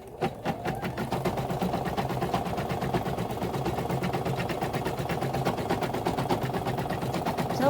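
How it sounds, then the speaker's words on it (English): An embroidery-capable sewing machine stitches a freestanding-lace awareness ribbon through thick fabric and stabilizer, a fast, steady needle clatter running continuously and up close with no talking. "So I'm gonna go ahead and just get it started and just watch it sew."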